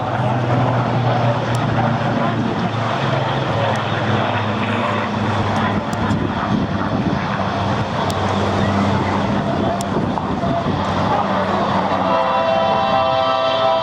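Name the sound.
Spitfire Rolls-Royce aircraft engine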